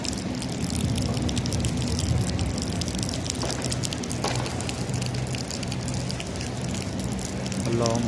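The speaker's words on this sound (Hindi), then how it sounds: "अभी भी हल्की हल्की बारिश लगी हुई है।" Light rain falling at Masjid an-Nabawi in Madinah, a steady soft patter and wash of drops across open ground, continuous and fairly close, with occasional faint background voices.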